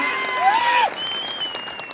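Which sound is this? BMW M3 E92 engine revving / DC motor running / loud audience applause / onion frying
loud audience applause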